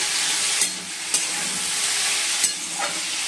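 Potatoes fry in a pan with a steady, dense sizzle, broken by a few sharp clinks of a utensil stirring them, close and without voices.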